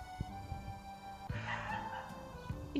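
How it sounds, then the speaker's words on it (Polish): A small dog gives a few faint, short barks and yips outdoors in a garden, distant and quiet against the background. "I piesek."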